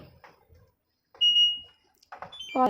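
An LG washing machine gives a short electronic beep as its start button is pressed during a drum-cleaning cycle, a single clear high tone between soft handling noises and brief faint sounds.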